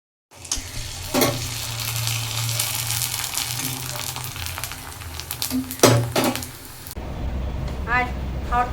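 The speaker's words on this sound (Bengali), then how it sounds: "পাঁপড়টা ভেজে নিই তাড়াতাড়ি।" Papad fries in hot oil with a loud, crackling sizzle and a few clattering knocks, then the frying cuts off and a voice speaks in a quieter room.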